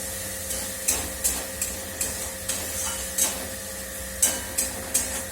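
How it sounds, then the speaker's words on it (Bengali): Spice mix sizzles steadily in a pan over a constant hum, broken by regular soft scraping strokes of a spatula roughly every half second, close and moderately loud. "মশলাটা ভাজা হোক।"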